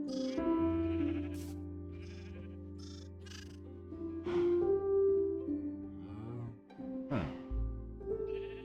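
Several sheep bleat repeatedly in Minecraft on a wool farm, loud wavering baas overlapping one another at close range across the stretch, with brief pauses between calls and no talking.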